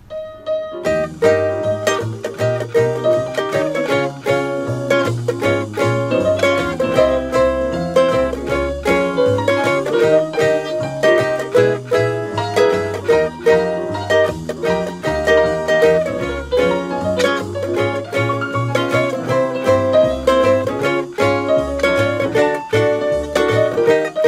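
A ukulele strummed steadily in a bouncy, swung rhythm, bright chords ringing one after another, close and clear with no talking.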